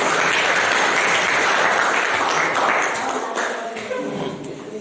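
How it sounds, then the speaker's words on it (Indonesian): Classroom applause for a presenting student group during a physics lesson, a dense steady wash of clapping that thins and fades toward the end, with a few voices underneath. "Ya, beri tepuk tangan dulu."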